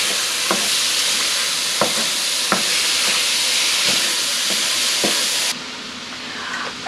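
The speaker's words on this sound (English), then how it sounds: "time for our mixed vegetables. And we'll get these mixed up." Mixed vegetables for a Maine lobster pot pie sizzle steadily in a hot pan while a spoon scrapes and taps through them every second or so, the hiss dropping off suddenly near the end.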